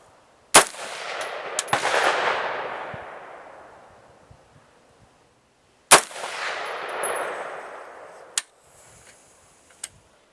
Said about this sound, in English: I just shot 2 rounds